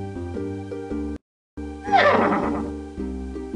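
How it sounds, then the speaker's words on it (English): A cartoon winged horse, Pegasus, gives one loud, shrill, wavering neigh in the middle of orchestral music that plays before and after the call. "That's Pegasus, the winged horse."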